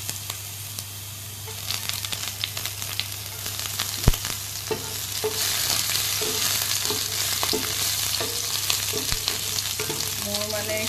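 Fenugreek seeds, panch phoron and garlic frying in a little oil in a large wok, a continuous close sizzle with repeated light taps and scrapes of stirring throughout.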